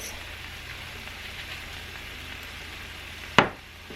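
A pan of mixture with Prego tomato, basil and garlic sauce being stirred, giving a steady low sizzle and soft scraping throughout, with one sharp clack of the spoon near the end.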